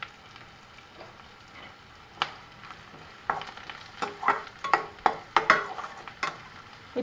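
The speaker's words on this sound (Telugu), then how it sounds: "ఈలోపు మనకి ఉల్లిపాయ అంతా కూడా మగ్గిపోయింది కదా" Onions fry in a pan with salt and turmeric, giving a soft continuous sizzle broken by sharp scraping clicks of a spoon stirring against the pan, growing busier toward the end.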